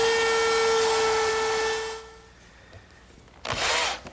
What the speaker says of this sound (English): now I'll relieve these edges with my 1/4 inch rounding over bit in the router table